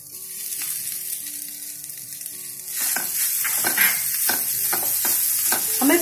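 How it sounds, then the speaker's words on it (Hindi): Paneer cubes dropped into a hot pan for veg seekh kabab set off a loud, steady sizzle, with sharp bursts of frying and stirring scrapes close to the mic and no talking. "अब हम पनीर डालेंगे।"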